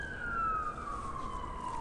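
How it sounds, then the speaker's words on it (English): An ambulance siren passes at a distance, one faint descending wail over a low background hum, with no talking. "We got sirens going on in the background right now. And there's an ambulance going by"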